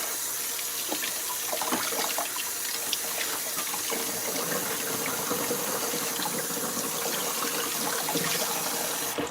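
Kitchen tap runs continuously into a sink during cleaning while potatoes cook, a steady splashing gush with small clinks and knocks over it, moderately loud and close.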